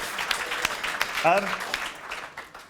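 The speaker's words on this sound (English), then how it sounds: "give her a round of applause." A crowd at a football awards ceremony applauds with a steady wash of clapping, while a voice briefly rises over it partway through.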